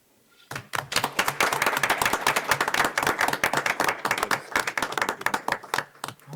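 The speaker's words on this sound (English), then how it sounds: "Please join me in a round of applause for those businesses and their teams." A room full of people at a school board meeting breaks into applause, steady clapping from many hands that starts abruptly and continues without letting up.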